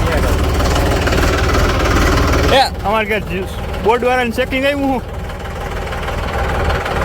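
A tractor engine runs steadily nearby on a farm by a newly dug well, with a low continuous drone under someone talking loudly for part of the time.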